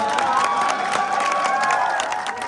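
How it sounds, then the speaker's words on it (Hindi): At a Samajwadi Party political rally in India, a crowd cheers and shouts while loud applause rolls underneath. Voices ring out over the dense clapping as it continues strongly for a couple of seconds. "इनका जोरदार तालियों से स्वागत।"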